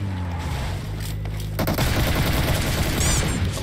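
Gunfire in the mobile battle royale game PUBG Mobile bursts out in a dense, loud rapid volley that starts partway through, following a quieter stretch of game ambience.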